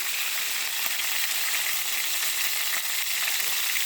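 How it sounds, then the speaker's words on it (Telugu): Boiled plantain pieces frying in oil in a kadai with salt, turmeric and green chillies: a loud, continuous, even sizzle with faint crackles and no talking. "నూనె వేసాను ఇవి ఉడకబెట్టాను ఉప్పు పసుపు వేసి తర్వాత పచ్చిమిరపకాయలు వేసి బాణీలో వేపుతున్నామండి"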